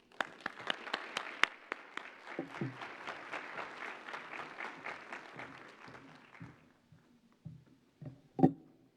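Audience applause for a human rights and migration commissioner taking the stage, a moderately faint burst of many clapping hands that thins out after about six seconds, leaving a few scattered claps and room noise.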